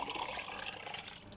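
Grated tomato is poured into a pot of fried peppers, making a soft, wet, continuous slosh for the whole short moment.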